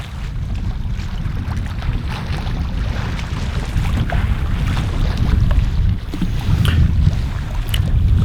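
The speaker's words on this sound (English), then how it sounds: "the wind comes right off of Antarctica and it's incredibly cold" Cold wind blowing by the water in Victoria, Australia just before winter, a steady loud rumbling buffet on the microphone with gusts swelling toward the end, no voices.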